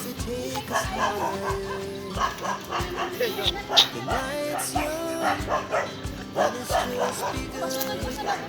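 A dog barks and yips in short bursts close by, mixed in with lively conversation as people talk over it.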